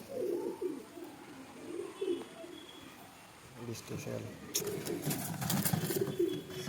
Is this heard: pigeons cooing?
yes